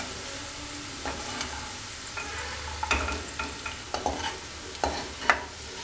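Bitter gourd pieces frying in hot oil for a Kerala-style pickle, a steady close sizzle broken by occasional scraping clinks of a ladle lifting them out, no talking.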